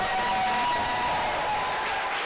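A luncheon crowd at a women's awards event gives sustained applause, a steady wash of clapping at moderate level with no talk over it.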